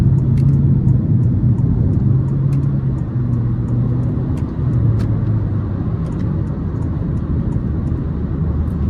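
Honda HR-V 1.5-liter turbocharged four-cylinder pulling steadily under acceleration, a constant low engine and road rumble droning inside the cabin with no break in level.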